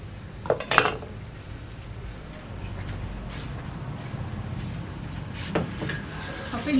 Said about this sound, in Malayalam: അതൊന്നും കൂടി കഴുകിയിട്ട് കുക്കറിലേക്ക് ഇടാം